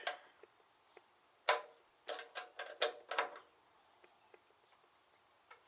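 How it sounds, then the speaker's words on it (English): A 13mm wrench tightening a bolt while installing a DeeZee tailgate assist on a pickup truck tailgate: a quiet run of small ratcheting clicks and metallic ticks, several in a quick cluster, close up with no talk. "Okay, 13mm wrench."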